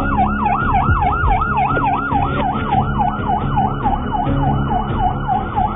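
An ambulance siren wails steadily in a fast repeating up-and-down cycle, loud and close, over a rumbling engine and road noise.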